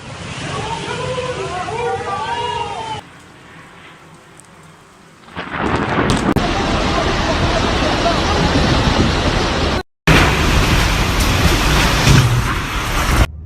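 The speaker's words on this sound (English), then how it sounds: "a storm accompanied by sudden, devastating downpour" Violent storm in Dalaman, Türkiye, with a sudden heavy downpour: dense, roaring rain and rumbling thunder fill the scene loudly and continuously, with a quieter, muffled stretch before the full deluge returns.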